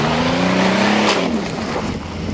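A 1990 Buick's engine revs hard while climbing a slippery, steep hill, with a loud steady roar and a rising whine that dips slightly partway through.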